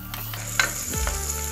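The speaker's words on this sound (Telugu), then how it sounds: "ఈ ఆనియన్స్ని బాగా ఫ్రై చేసుకోవాలండి" Onions and green chillies frying in oil make a brief, close sizzle, with one sharp utensil clink and a quick stir.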